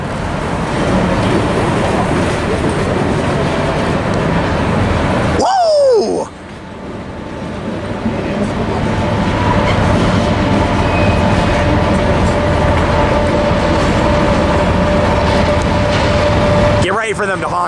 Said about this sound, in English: here comes a westbound freight.